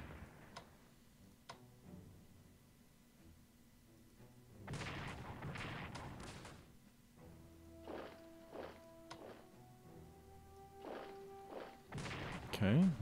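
Artillery fire in the strategy game Strategic Command: World War I comes as a series of short thumps and booms with a few ticking clicks between, fairly faint and spread across the stretch.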